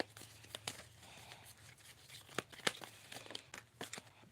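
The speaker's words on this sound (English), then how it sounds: "And I am shuffling." Tarot cards being shuffled by hand, giving soft, irregular papery riffles and flicks with a few sharper snaps, close and fairly quiet over a low steady hum.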